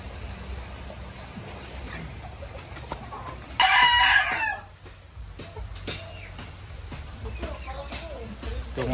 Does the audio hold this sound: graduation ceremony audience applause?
no